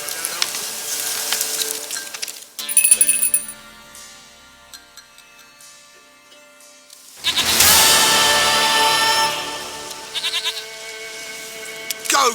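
A goat bleats in the video game Witcher 3 on the Nintendo Switch Lite, a couple of loud wavering cries separated by quieter stretches.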